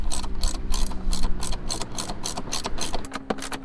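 Ratchet wrench tightening 10mm screws on the front bumper of a Lexus RC F, a fast steady run of close, loud clicking that slows slightly near the end.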